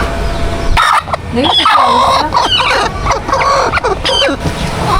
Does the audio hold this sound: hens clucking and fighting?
yes